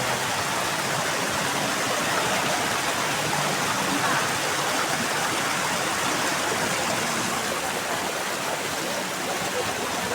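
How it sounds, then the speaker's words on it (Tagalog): Water flowing over rocks in an outdoor stream, a steady, loud broadband rush that holds unchanged for the whole stretch without pauses or talking. "Ayan, yung tubig na."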